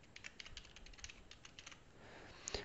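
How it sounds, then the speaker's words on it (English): A password typed on a computer keyboard: a quick, quiet run of close key clicks, then a short lull and a final louder keystroke. "this is the password to that email account"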